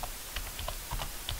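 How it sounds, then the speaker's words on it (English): Quick, steady keystrokes on a computer keyboard, close and clear, a run of soft clicks typing a simulation command with no talking. "I'm going to type in dot step"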